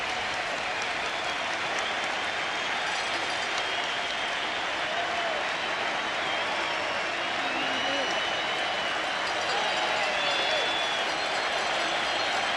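A packed baseball stadium crowd at a 1995 Mariners ALDS playoff game roars and applauds in a steady, sustained wash of cheering, with a commentator talking over it.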